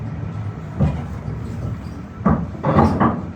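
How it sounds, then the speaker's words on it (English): A 55-year-old train passes the station seen from a window, heard as a low rumbling hum with several louder swells of wheel and carriage noise near the end. "this train should actually overlap and go past the station from where we are"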